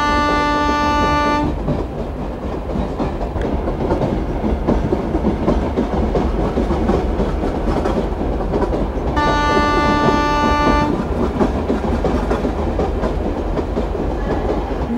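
A Mumbai local train in the Indian Local Train Simulator Android game runs with steady loud rumble and rail clatter, while a long horn blast sounds at the start and again near the middle.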